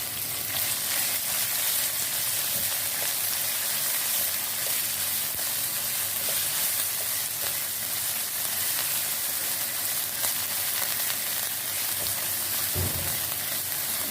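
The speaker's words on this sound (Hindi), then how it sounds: "अब ये हमने बीफ का कीमा ले लिया और इसमें हम डाल लेंगे और इसको भी हम अच्छे से फ्राई कर लेंगे," Beef keema sizzles and fries steadily in a pan with garlic and ginger, a continuous bright crackle throughout with a brief low knock near the end.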